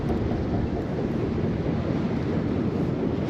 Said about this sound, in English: We've got a bit of a wind blowing in